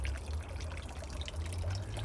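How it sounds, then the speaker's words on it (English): Small stream of running water trickles steadily through a Japanese garden at Tsuru Island in Gresham, Oregon, a continuous soft burble over a low rumble, with no talking. "Here's a little bit of running water."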